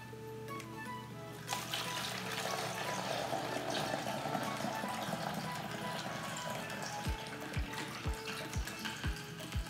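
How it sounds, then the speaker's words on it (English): Cider vinegar pours steadily into a spray bottle in a continuous liquid rush, with a run of sharp low thumps near the end. "fill the rest of the bottle up with your cider vinegar"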